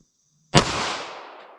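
A single loud, close report from a 9mm pistol with a 5-inch barrel firing a full metal jacket round, followed by a sharp crack and a reverberant tail that fades over about a second.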